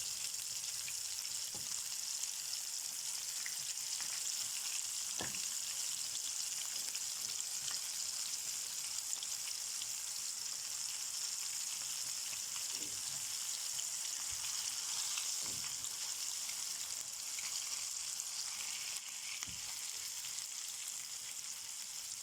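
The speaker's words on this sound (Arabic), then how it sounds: "هنا بقى حطيت زيت كده في الطاسه، السمكه المفتوحه بالشكل ده واحطها كده" Catfish fries in oil in a pan with a steady, hissing sizzle that runs unbroken throughout, broken only by occasional soft pops and light clicks, fairly quiet and close, with no talking.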